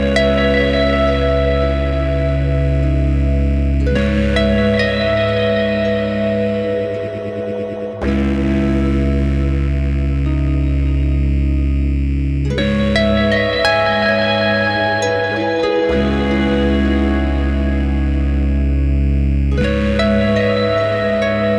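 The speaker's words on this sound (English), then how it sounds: "I'm going to plug the full range of my harp into the Dark Star" A harp's full range fed through Dark Star and Drolo Kiwami drive pedals rings out in long, dense, distorted chords, changing roughly every few seconds with echoing, harmonically rich swells.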